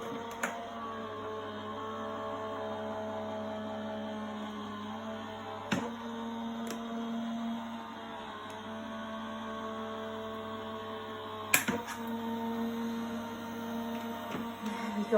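A Gemini die-cutting machine runs a card and dies through with a steady, close mechanical hum. Sharp clicks land at a few points, and the drone holds level throughout.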